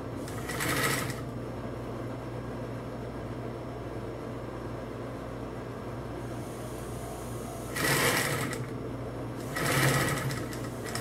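Singer 251-22 industrial sewing machine with a bias binder attachment, running in three short stitching bursts over a steady motor hum, the longest near the start and two closer together near the end.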